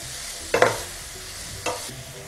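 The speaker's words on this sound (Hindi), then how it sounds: "फ्लेम को हम हाई रखेंगे और इसे इस तरीके से पकाएंगे" Vegetables and spring onion stir-fried on high flame for veg chow mein, with two quick bursts of tossing and scraping over a low steady sizzle.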